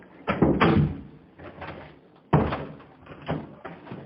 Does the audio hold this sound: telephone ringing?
no